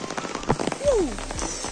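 Heavy rain falls during a hike in Nepal with a dense, steady patter on surfaces, joined by a brief sliding whistle-like tone.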